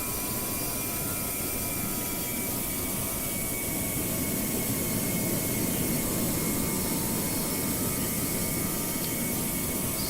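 Steady, broadband roar of Airbus A330-900neo jet engines in cruise and descent in the GeoFS flight simulator, continuous and even with no voices.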